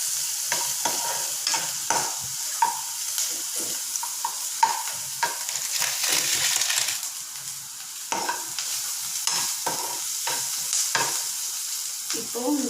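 Drumstick leaves are sautéed in a pan with a steady sizzle, while a spatula scrapes and stirs in a string of irregular clicks and taps, close up and with no talking.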